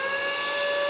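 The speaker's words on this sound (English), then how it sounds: "So let's see how much suction it can create." Mini vacuum cleaner running on suction, giving a steady high-pitched whine with a strong tonal hum, loud and close, alone for under a second.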